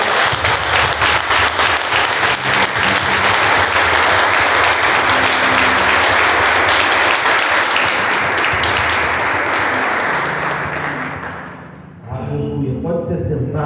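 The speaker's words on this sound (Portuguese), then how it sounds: "Aplauda o Senhor." Loud, dense applause from a church congregation during a celebration service, close and continuous for about ten seconds, with a voice speaking over it. The clapping tapers off as the voice carries on.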